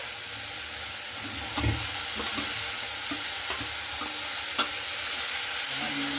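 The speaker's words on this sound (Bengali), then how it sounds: "এরপরে শাকটা দিয়ে খুব ভালো করে এভাবে নাড়াচাড়া করে নিচ্ছি" Drumstick leaves (sajne shak) fry with browned onions in a pan, a continuous close sizzle with intermittent scraping and knocking as the greens are stirred and turned.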